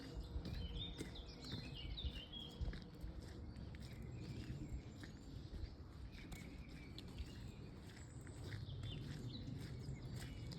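Birds chirp and tweet in scattered high calls outdoors in Austria, over a background with light patter and clopping noises.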